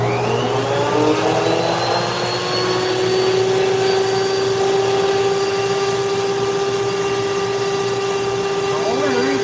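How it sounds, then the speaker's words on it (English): A Dremel flex shaft rotary tool carving a wooden owl gives a steady, close, high motor whine that rises slightly at the start, then holds a constant pitch for the full stretch. "I don't want to take it out. I want to use the flex shaft."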